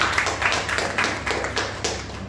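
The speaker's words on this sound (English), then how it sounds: "We can give an applause." Scattered applause at a Toastmasters club meeting after a technical speech, a handful of people clapping at close range in uneven, fairly quiet bursts.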